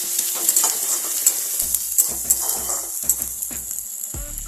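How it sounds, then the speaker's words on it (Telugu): Green chillies and curry leaves sizzle loudly in hot oil in a pan while being stirred, a steady frying hiss with repeated scraping strokes of a utensil. "2 మినిట్స్ తర్వాత పచ్చిమిర్చి, కరివేపాకు వేసుకోవాలి. ఒకసారి బాగా మిక్స్ చేసుకోవాలి."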